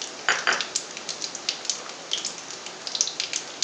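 Nigella seeds sizzle in hot ghee, tempering for a dhaba-style dalpuri filling, with a steady close crackle full of quick sharp pops and spits and no talk.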